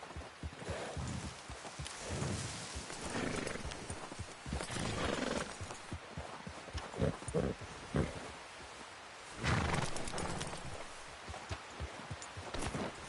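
A horse gallops in Red Dead Redemption 2, with rhythmic hoofbeats and occasional whinnies over rain and outdoor ambience, moderately close and loud throughout.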